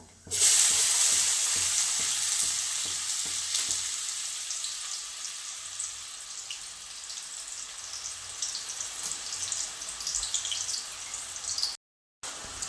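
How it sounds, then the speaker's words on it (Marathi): Finely chopped onion sizzles in a pan over cumin seeds, the crackling hiss loud at first and then settling into a steady fry with occasional stirring. A brief silent gap comes near the end. "कांदा आपल्याला आता लालसर करून परतून घ्यायचा"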